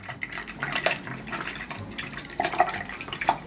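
Eyeshadow brush swished in a small amount of water, giving soft, intermittent drippy sloshes and light splashes close up in a quiet room.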